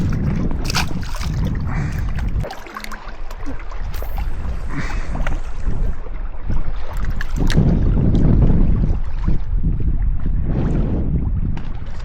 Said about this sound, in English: Now you're telling me wind is not gonna stop today.